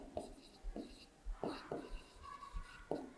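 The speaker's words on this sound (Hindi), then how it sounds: "तो उसको भी लिख लेते हैं" A pen scratches across paper in short strokes while a teacher works a class 3 subtraction problem, faint and close, under soft spoken narration.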